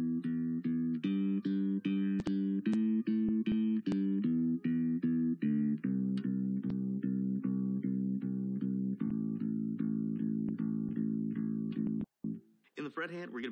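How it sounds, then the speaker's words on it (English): Steady eighth notes on a bass guitar move across three strings in an even, unbroken rhythm, played close and clear for about twelve seconds before the line stops and a brief noise follows. "This exercise spans three of our four bass strings, and we'll play eighth notes throughout."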